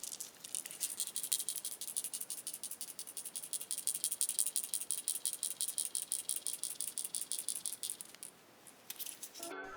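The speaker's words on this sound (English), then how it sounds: "That sound is actually the swatch at the top of the cap." Shaking a cat eye gel polish bottle sets the small swatch at the top of the cap rattling in a quick, steady, faint clicking rhythm that runs for several seconds before stopping.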